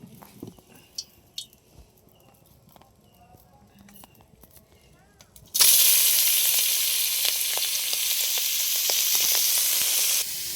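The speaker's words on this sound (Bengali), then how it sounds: "প্রথমে এগুলো হালকা করে তেল দিয়ে ভেজে নেব আগে।" Spices fry lightly in oil, a bright, even sizzle switching on suddenly partway through and holding steady near the microphone, preceded by scattered soft clicks and kitchen handling sounds.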